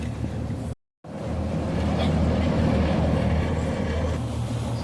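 Steady low engine drone of the original Gardner engine aboard a little wooden vessel built in 1937, a continuous close rumble broken by a brief dropout near the start.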